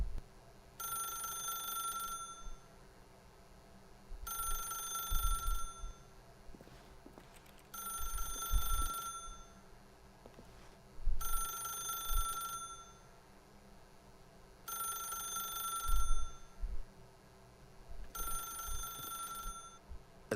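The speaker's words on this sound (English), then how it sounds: "If you can truly place your faith in another, then pick up the phone." Telephone ringing in The Stanley Parable video game, an old-style bell ring sounding in regular bursts about every four seconds, six rings in a row against a quiet low hum, no talking.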